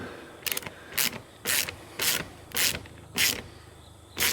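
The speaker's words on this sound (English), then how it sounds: "we'll tighten it all the way down now" Fasteners being tightened on a CAN-AM Defender polymer back window, a series of about seven close ratcheting bursts at a regular pace, with no voices.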